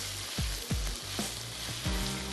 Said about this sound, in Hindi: सौते करते हैं इतना कि चिकन कुक हो जाए।